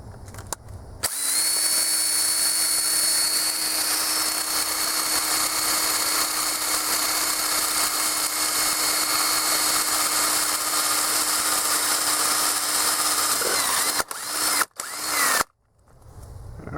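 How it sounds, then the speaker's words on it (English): A loud, steady power drill whirs continuously for most of the clip while drilling out a broken shifter part on a Nissan truck, then stops with a few short bursts and a brief pause near the end. "so okay, well let's finish getting that drilled out"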